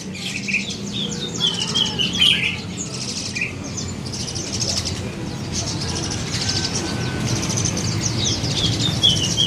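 Asian pied starlings chirp and whistle in bursts over a busy background murmur at a bird shop, with faint talk in the distance.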